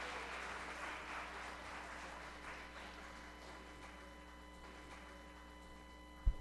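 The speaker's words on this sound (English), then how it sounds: "Could we give Mr. Ramjatan a round of applause again, please?" Audience applause fills a school anniversary ecumenical service, a steady wash of many hands clapping at a distance that slowly fades over a constant electrical hum, ending with a sharp thump.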